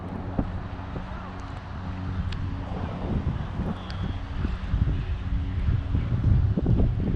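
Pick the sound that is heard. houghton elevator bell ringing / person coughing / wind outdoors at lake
wind outdoors at lake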